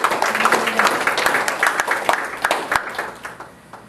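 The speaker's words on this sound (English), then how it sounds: "Let's give God a clap offering" Church congregation gives a clap offering, a burst of loud, brisk clapping from many hands that holds steady and then fades toward the end.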